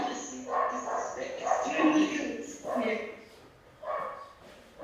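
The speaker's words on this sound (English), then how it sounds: "there's a dog barking around here" A nearby dog barks and yips in several short bursts, loud and close, sounding over a quiet room.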